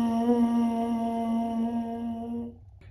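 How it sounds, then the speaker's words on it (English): Lips buzz into a baritone mouthpiece, producing a steady, reedy drone held for about two and a half seconds before cutting off. It sounds close and moderately loud. "you're going to do that buzzing straight into that mouthpiece"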